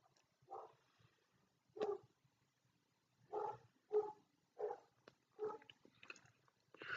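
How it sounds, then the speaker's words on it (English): Dogs barking indoors at home, a series of sharp separate barks about every second, moderately near with quiet gaps between them. "The dogs are barking."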